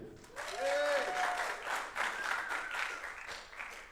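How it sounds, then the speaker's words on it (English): A jazz concert audience claps in a sustained burst of applause, with a brief musical tone ringing out at the start. "please give him a round of applause, Kyle Athayde."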